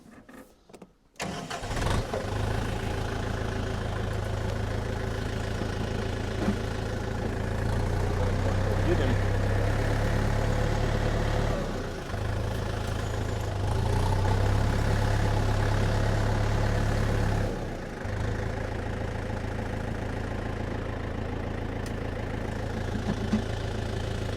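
A tractor fitted with a DTZ FN-1.6U rotary tiller, power take-off set to 540 rpm, starts and then runs at a steady, close, droning idle for over twenty seconds, its low throb shifting slightly in pitch.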